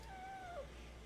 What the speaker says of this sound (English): She just sits here with like the softest meow, and it sounds like a squeak to me.